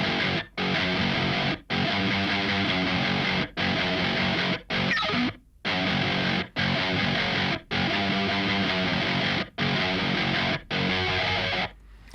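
Electric guitar through the Neural DSP Archetype Gojira plugin plays a heavily distorted, loud chugging riff alone, with thick sustained chords broken by short sharp silent stops at regular intervals.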